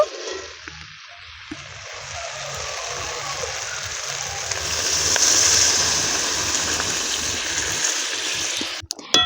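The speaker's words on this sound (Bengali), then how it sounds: "আলু আর ওলকপি ভালো করে কষে নিয়েছি, এবার আমি জল ঢেলে দেব।" Water pours steadily into a pan of sautéed potato and kohlrabi curry, a continuous gushing splash that swells midway and then tapers off, with no talk.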